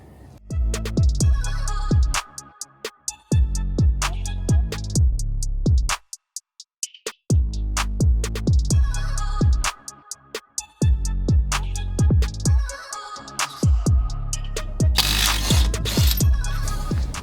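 Half-inch impact wrench on low speed removing wheel nuts from a Porsche GT4: repeated loud rattling hammer bursts of a few seconds each, separated by short pauses, up close with no talk.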